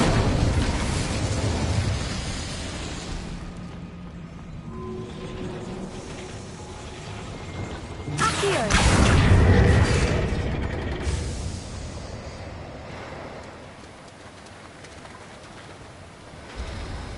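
A boiler fires up with a low rumbling whoosh, then a mechanism grinds and clanks into motion, all inside the Hogwarts Legacy video game, under steady background ambience with a louder surge partway through.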